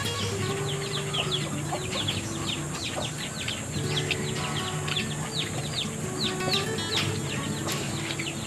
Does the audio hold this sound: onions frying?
no